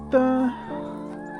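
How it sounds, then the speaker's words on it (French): Laying hens clucking in a henhouse, a short drawn-out tonal cluck followed by a lower sustained call, close and fairly quiet. "Je sais pas si vous en avez vu beaucoup des jolies poules comme ça dans le coin des pondeuses."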